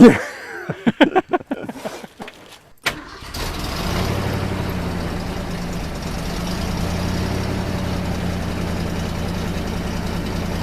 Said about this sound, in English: Sounds great. That's the factory exhaust too.